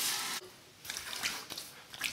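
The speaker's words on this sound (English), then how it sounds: "A final rinse, cold water rinse to the face." After a shave, water splashes and drips at a sink during a cold rinse of the face. A steady running-water hiss gives way to wet, squishy splashes from hands against skin, all close and without speech.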